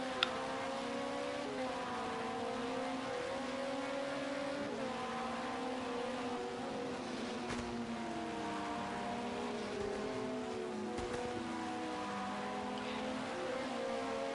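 On-board engine of an LMP2 prototype race car in a sim race at Sakitto GP, a steady loud drone rising and falling through gear changes and corners, continuous for the whole stretch with no voices.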